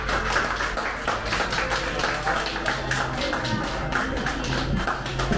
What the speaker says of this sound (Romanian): Bine, bine, dar pe cele cinci ursitoare nu le aplaudă nimeni?